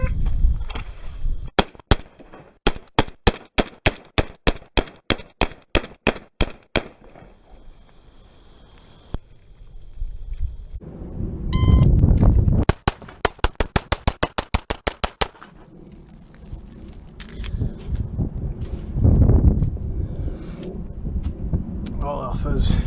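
Pistol shots from a CZ P-01 ring out at an outdoor range: a quick string of about a dozen sharp reports, a pause, then a second rapid burst, with wind rumble and some talk in between.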